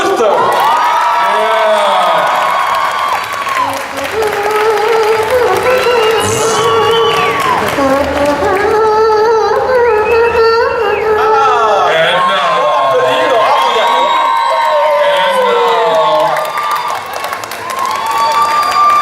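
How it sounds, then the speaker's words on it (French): A convention audience applauds and cheers loudly and steadily, with whoops and shouts rising over continuous clapping, while an announcer's voice carries through the crowd noise. "Et je vous demanderai d'applaudir Madame Laura Vandervoort."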